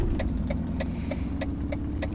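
Car driving in City Car Driving, a steady mid-pitched engine drone with a faint regular ticking, like a turn indicator, clicking about every third of a second throughout, no voices.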